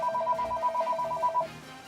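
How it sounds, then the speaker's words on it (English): A phone ringtone trills in steady repeated pulses for about a second and a half over a stream of Pokemon Violet game music, then cuts off. "The phone!"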